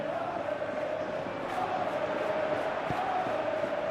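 A stadium crowd in the PES 2025 football video game, played on PS3, roars in a steady, continuous wash with a sustained tone running through it.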